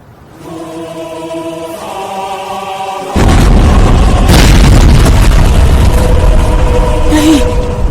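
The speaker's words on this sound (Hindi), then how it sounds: "कोई धमाका हुआ है या?" A sudden deep boom from an explosion in an animated fantasy setting cuts in loud and broadband after a quieter tonal stretch, then leaves a sustained rumbling roar with scattered bursts.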